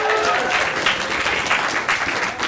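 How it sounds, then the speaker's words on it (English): An improv comedy class showcase audience gives a brief, fairly modest round of applause, a continuous crackle of many hands clapping with slight surges, no voices standing out. "that round of applause was a little bit weak sauce"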